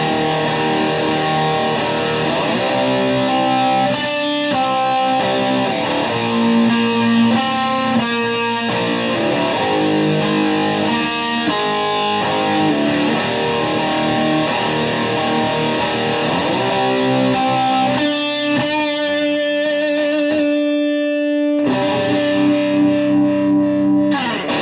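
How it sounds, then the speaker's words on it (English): Electric guitar through a Blackstar HT 40 combo amp with heavy distortion and reverb, played as a continuous riff of saturated chords and single notes that briefly cuts out near the end before a sustained note rings out. "now I'll play with some reverb so you can hear it with the heavy distortion"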